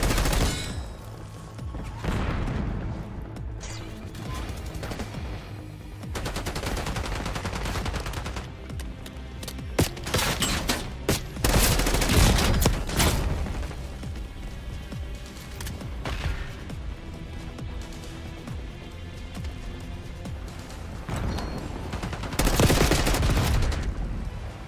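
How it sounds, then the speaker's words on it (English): Gunfire in Black Ops 6 multiplayer: loud, nearly continuous automatic bursts and volleys that swell and fade, with several sharp peaks standing out across the stretch. "I'm getting shot from behind."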